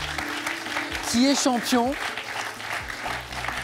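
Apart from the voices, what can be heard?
studio audience applauding a game show contestant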